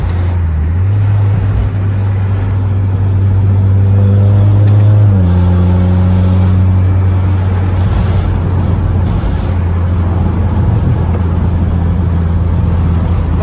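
A Mazda MX-5 with a DCT gearbox and HTG standalone tuning, heard from inside while driving: a loud steady engine drone with a rising rev and a gear change midway, then cruising hum.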